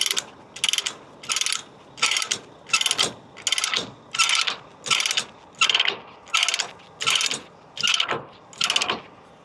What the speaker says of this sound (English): Now we torque it down.